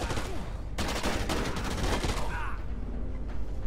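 Shotgun blasts and chaotic gunfire in the Dead Rising 2 video game, several loud bursts packed close together over a constant busy backdrop of game noise.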